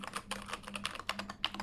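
Typing on a Keychron K8 mechanical keyboard fitted with standard keycaps: quick, irregular bursts of close, crisp key clacks, heard alone.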